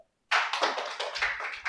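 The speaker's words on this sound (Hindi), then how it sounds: "तालियां हो जाए जोरदार" Loud, close applause from a classroom audience during an audit lecture, a burst of many hands clapping that starts abruptly after a brief silence and keeps going steadily.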